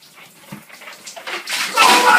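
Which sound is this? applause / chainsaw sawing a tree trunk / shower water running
shower water running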